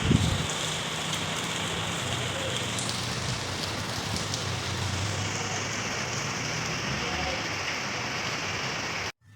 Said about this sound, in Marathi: मस्त पाऊस चालू झालेला आहे।